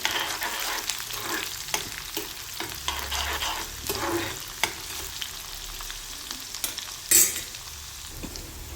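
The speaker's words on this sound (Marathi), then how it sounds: "सफेद तीळ पण लगेच टाकून घ्यायचे आहे मोहरीच्या तेलामध्ये चांगल्यापैकी परतून घेऊया" White sesame seeds frying in mustard oil, stirred now and then: a quiet, steady sizzle close by with soft scattered scraping taps and one brief louder clatter near the end, no voices.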